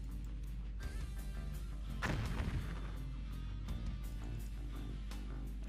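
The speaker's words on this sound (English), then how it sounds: "those are actually the mortars" A single distant mortar blast in the Stalingrad war game lands near the middle, a sharp crack trailing into low rumble over a quiet steady battlefield hum, with faint clicks around it and no talk.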